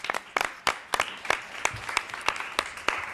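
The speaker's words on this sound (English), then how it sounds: "Let's give them an applause." An audience at a regional economic development council presentation applauds, scattered distinct claps from a modest crowd, fairly quiet and somewhat distant, with no speech over them.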